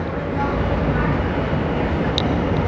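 A Washington D.C. Metro train rolls along with a steady low rumble and hiss heard from inside the car, with one brief high squeal near the end.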